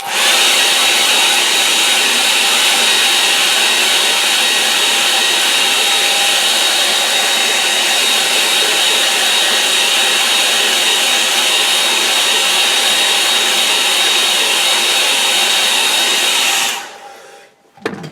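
Hair dryer blowing over a gouache watercolour painting of a cottage by a river, a loud steady roar holding for about seventeen seconds before switching off abruptly.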